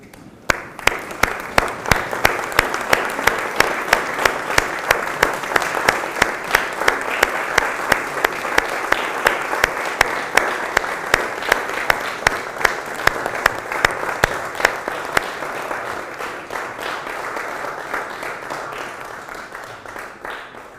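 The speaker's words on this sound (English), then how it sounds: "big round of applause" A large audience at a college diploma ceremony stands and applauds, producing dense, sustained clapping with some sharper individual claps on top, holding steady for about twenty seconds before easing off slightly at the end.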